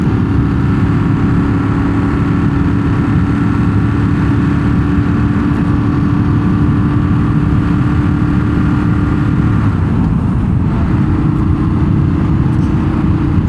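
A Ducati motorcycle engine runs steadily while riding to work, giving a loud, continuous low drone with a mid-pitched hum and a constant wind rush, close and unbroken, with no talking.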